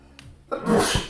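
A single sharp, close sneeze during a poker streamer night, a short intake of breath followed by a loud explosive burst.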